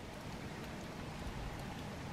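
Steady outdoor rain falls in wild, flooding New Zealand weather, a dense, even hiss of drops that holds without a break. No voices are heard.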